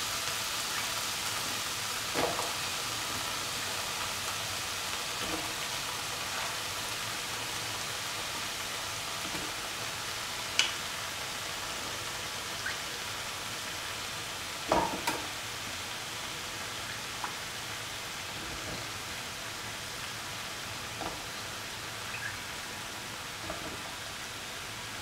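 Mixed vegetables for a homemade stew sizzle in a pan with a steady, even hiss, broken by occasional small pops and crackles, and no voices.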